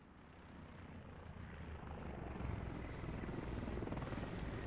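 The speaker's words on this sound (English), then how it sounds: "two helos are rolling right past Ubenka, right into West Steph" Helicopters thunder past in a battle royale game, a steady rotor drone that swells louder toward the end as the pair closes in, with a faint high whine near the end.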